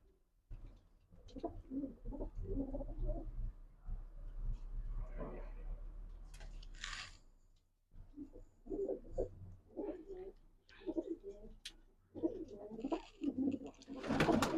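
Large pigeons cooing in a loft, soft repeated coos mixed with wing flutters and bird calls, close by, with someone talking over them at times.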